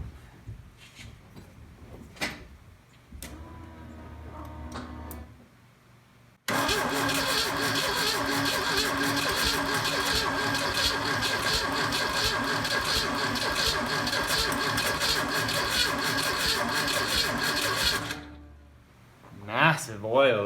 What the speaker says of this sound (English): let's give it a spin and see if we can just crank it for a while